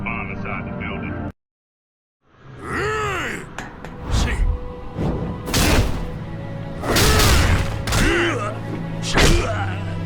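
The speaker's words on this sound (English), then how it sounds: "Oh, look, a school just blew up." A school building blows up in a Yakuza video game: a sudden cut to silence, then a run of heavy booms, thuds and rumbling crashes that keep swelling loudly through the rest of the scene, with groaning voice-like tones mixed in.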